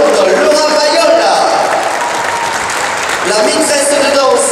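A folk festival crowd in Carpentras applauds its president with sustained, even clapping, a dense wash of hands with a voice briefly audible beneath.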